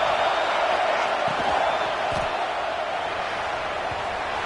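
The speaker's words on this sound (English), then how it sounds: "And here comes the noise. This crowd is trying to inspire this defense to make a big red zone stop." Stadium crowd noise from a college football video game before a red-zone defensive stand: a dense, steady roar of many voices, loud and unbroken throughout, with no distinct cheers standing out.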